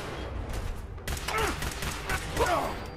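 Combat rifle gunfire from the video game Fallout 4 comes as a burst of sharp, crackling shots with clattering impacts, loud and fairly close, over a steady game background.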